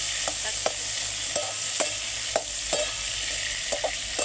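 Drumstick pods stirred and frying in a pan over a wood-fired stove, with a steady soft sizzle and repeated scraping stirs at a close, even pace, no voices.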